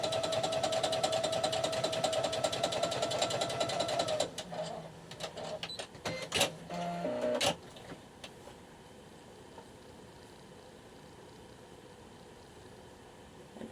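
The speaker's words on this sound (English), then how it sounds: "I'll put a longer stitch on my sewing machine." Domestic sewing machine stitching a long 5 mm running stitch along a neckline seam allowance, a fast steady mechanical whir for about four seconds, then a few short stop-start bursts before falling quiet.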